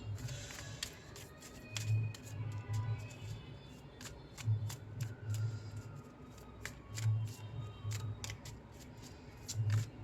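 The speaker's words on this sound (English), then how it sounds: "Let's shuffle." Tarot cards being shuffled by hand, a run of crisp riffling flicks and soft snaps close up, with low murmuring sounds underneath.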